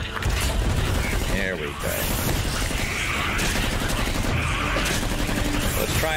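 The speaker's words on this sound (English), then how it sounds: "activate the defensive turret" Rapid gunfire from a defensive turret crackles continuously in the roguelike game Anvil, mixed with mechanical clatter and booming game effects, loud and dense, while someone talks briefly over it.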